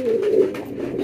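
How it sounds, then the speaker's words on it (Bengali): A homing pigeon at a busy pigeon market in Chittagong gives a single soft, throaty coo, close and clear, lasting about a second. "রাখলেও তো ভালো ভাই হোমা কবুতর"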